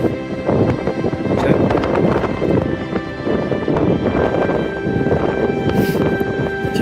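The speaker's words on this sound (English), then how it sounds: "It's a wee bit windy." Strong wind on a Scottish mountain ridge buffets the microphone in loud, uneven gusts, with rumbling bursts rising and falling across the whole stretch.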